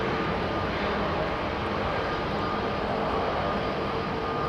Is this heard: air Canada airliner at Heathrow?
yes